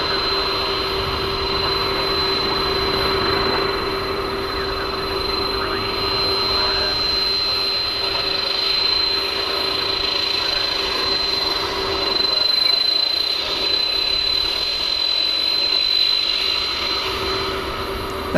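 Boeing 767 jet engines whine and hiss steadily at night as the aircraft taxis toward the DFW Airport terminal, with a thin high tone sustained over a broad roar heard from some distance.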